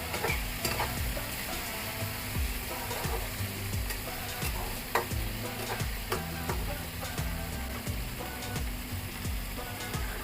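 Raw green bananas with their peel frying in a pan with turmeric, a steady soft sizzle with intermittent stirring scrapes and clinks, close but fairly quiet throughout.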